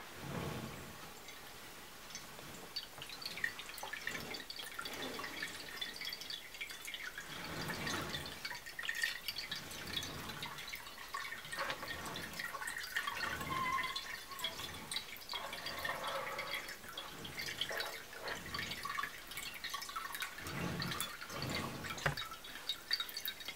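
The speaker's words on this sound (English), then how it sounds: "water sound, mostly from the backfalling water into the bowl" Steady trickling and splashing of water falling back into the bowl of a ceramic pet drinking fountain, continuous and fairly soft, with small drips standing out now and then.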